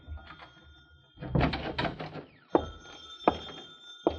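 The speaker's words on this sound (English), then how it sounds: "Uh-oh, the phone." A telephone rings as a radio drama sound effect, its bright electric bell tones coming in bursts around a few heavy thumps and knocks.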